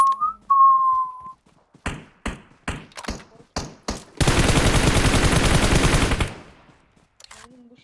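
Gunfire in the mobile battle-royale game PUBG Mobile: a brief whistle, then about six separate loud single shots, then a dense sustained burst of automatic fire for about two seconds, ending in quieter sounds.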